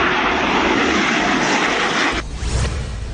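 A Jaguar fighter-bomber jet engine roars loud and steady, a broad sustained rush that shifts and thins partway through as the aircraft passes.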